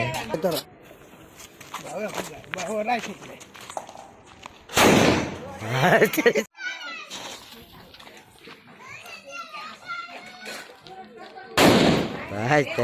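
Mirchi bomb firecrackers go off during Diwali as two sharp, loud blasts, one near the middle and one near the end, between stretches of excited children's chatter and shouting.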